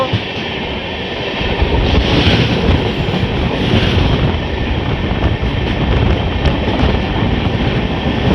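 The Dhauli Express from Howrah rushing along at top speed toward Bagnan, with a loud, steady rumble and rattle of wheels on track that never lets up.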